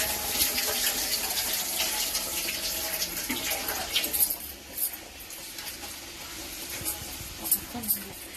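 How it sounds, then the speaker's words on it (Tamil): Water pours and splashes steadily as it is drained from soaked rice, with occasional light clinks of a pot or vessel throughout. "இந்த தண்ணியை வடிச்சிருவோம்"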